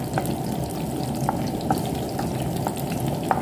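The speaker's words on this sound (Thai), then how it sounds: "กระเทียมแล้วก็พริกนะคะ ผัดให้หอมนะคะ" Garlic pieces and chili stir-frying in oil in a pan, a steady dense sizzle with light periodic scrapes and clicks of a utensil, close and continuous with no talking.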